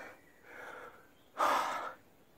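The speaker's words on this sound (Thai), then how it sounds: "หายใจลำบาก" A person breathes heavily through a face mask while climbing temple stairs, two drawn breaths with the second louder and rougher, close and alone.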